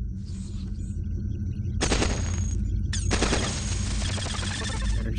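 Energy cannons fire in the robot strategy game Cogmind, loud rapid bursts of crackling blasts in two long volleys over a low humming background.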